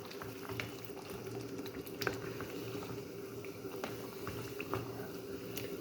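Potatoes frying in a pan on a low flame for aloo matar curry, giving a steady, close, bubbling sizzle with soft crackles and occasional small pops, heard alone.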